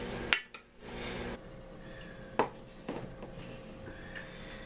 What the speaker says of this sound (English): I'm just gonna fluff up the rice